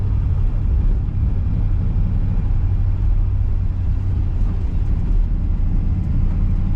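A 1957 Ford Fairlane 500 Club Sedan rounds a roundabout after a downshift, its engine giving a steady, deep rumble heard from inside the car, loud and unbroken, with no talk.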